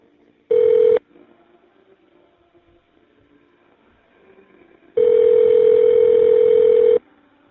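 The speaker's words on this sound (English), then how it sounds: "The number is now being dialed." Dial tones sound during a prison phone call as a number is dialed: a short steady tone, a quiet pause with faint background noise, then a longer loud tone.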